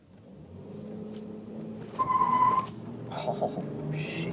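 A car on a Georgia highway with utility trucks and traffic nearby, its engine rumbling under a steady road drone, then rising in a brief revving surge with a whining tone mid-clip before settling back.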